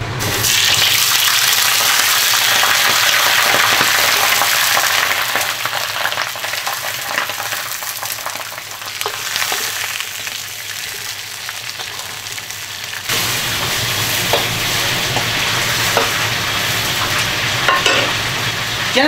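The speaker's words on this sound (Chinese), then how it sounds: "油烧热后，先把鱼眼睛给它煎一下。" Fish eyes fry in hot oil and lard in a wok, a loud, continuous close sizzle and crackle that shifts partway through and keeps going without talk.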